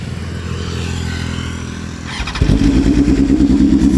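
A BMW S1000RR superbike engine cranks and fires up, a steady low idle-like rumble giving way after about two seconds to a louder, throbbing, clattery engine running close by, with no talking.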